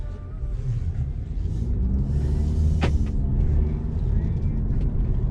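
A 2017 black Audi A6 Quattro with 252 hp pulls away under steady engine rumble heard from inside the cabin, a low continuous drone with a brief sharp hiss midway.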